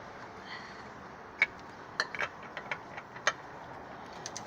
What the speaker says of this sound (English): you have to loosen some of the lug nuts